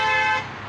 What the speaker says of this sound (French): Tout ce soutien klaxonne aussi bien là sur le rond-point qu'on va sur l'autoroute, ça n'arrête pas.